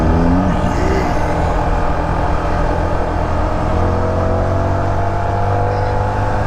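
A Yamaha TFX 150 motorcycle accelerates hard through its gears, a steady loud engine drone with rising pitch sweeps as each gear winds up, sustained and close throughout.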